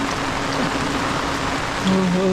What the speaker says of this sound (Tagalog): Talagang tag-ulan na talaga.